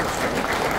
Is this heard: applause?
yes